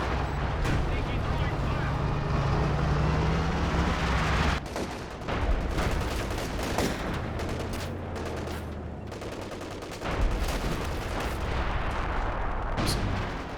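Artillery base barrage in Company of Heroes 2, with repeated heavy shell blasts and gunfire crashing over continuous battlefield rumble, loud and sustained, while a commentator talks over it.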